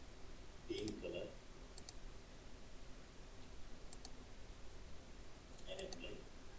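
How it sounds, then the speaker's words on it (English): Soft, sparse clicks from a computer mouse and keyboard key presses sound close and faint, coming singly and in quick pairs over a quiet background. "Press Ctrl key from your keyboard and click and see this"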